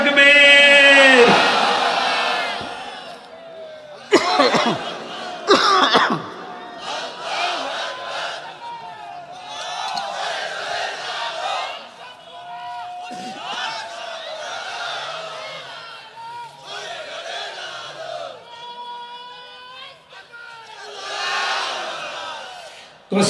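A large crowd at an open-air Islamic waz gathering in Kushtia roars takbir in loud, repeated chorused shouts, with surging waves of voices that rise and fall across the stretch.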